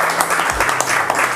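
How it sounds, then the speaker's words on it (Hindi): A live audience at a poetry performance bursts into loud, dense applause that stays continuous and close through the whole short moment. "एक बार फिर से जोरदार तालियां यार"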